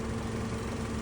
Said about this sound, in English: Right now what you're hearing is the fan in the front.